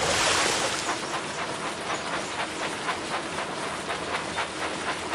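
A train engine rolls along in the Thomas and Friends Minis mobile game, with a steady chugging rhythm of soft, evenly spaced beats over a washy background hiss, no voices.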